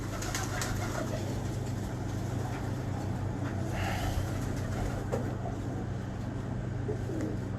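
Pigeons in a loft coo softly amid a steady background hum and rustle, the calls low and continuous rather than distinct, with no talk over them.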